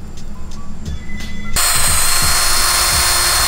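A power drill mixes catalyst into a gallon can of Monstaliner truck bed liner, with a few light clicks and taps before the drill starts, then a loud, close, steady whirring that runs to the end.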